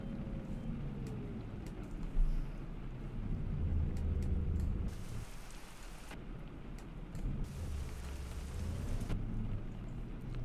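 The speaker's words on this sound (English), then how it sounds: "so it's raining now" Steady rain pours down in Euro Truck Simulator 2, a dense hiss over a low engine hum, with sharp bursts of heavier rainfall cutting in and out at intervals.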